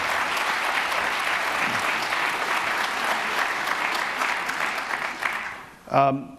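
An audience in a room bursts into sustained, dense applause that holds steady for several seconds before tapering off, a lone voice coming in at the very end.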